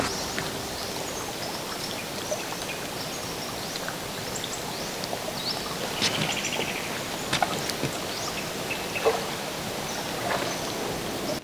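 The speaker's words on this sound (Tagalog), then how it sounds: "Bukod kasi sa tunog ng tubig, rinig na rinig din po natin yung huni ng iba't ibang ibon" Water washing and trickling at Libtong Cove on a Philippine island, a steady bright rushing with scattered sharp chirps and calls of various birds rising over it.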